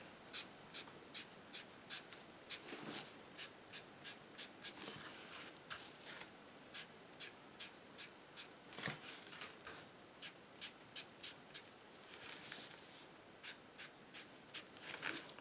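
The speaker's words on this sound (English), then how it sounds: "now what I'm going to do is I'm just going to draw a few lines in here" Pen drawing short lines on a handmade card, a quiet series of quick scratchy strokes in a steady, regular rhythm, close up, with a few louder scrapes in between.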